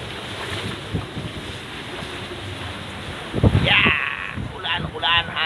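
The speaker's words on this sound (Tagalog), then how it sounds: "Ang lakas ng ulan at hangin." Strong gusting typhoon wind buffets the microphone in Taiwan over a steady rush of rain and water, and a person's voice breaks in partway through.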